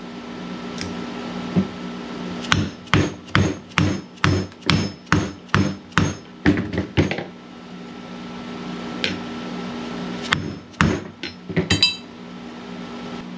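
A dead blow hammer drives a seal driver to seat a wheel seal on a 1982-92 Camaro/Firebird hub. It lands a rapid run of a dozen or more close, sharp metallic knocks, then a few scattered taps and a clatter over a low shop hum.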